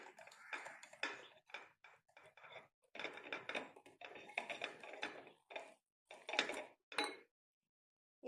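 Salt, baking powder and vanilla powder mixed together in a bowl, giving a run of quick, close clinks and scrapes of a spoon against the bowl in short bursts, with brief pauses in between.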